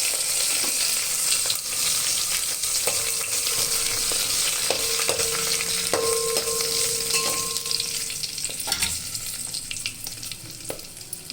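Whole spices for coconut rice, including cinnamon, star anise, cardamom, mace, cloves, cumin and bay leaf, crackling and sizzling steadily in hot oil, with a few clinks of a stirring spoon against the pan and no talk.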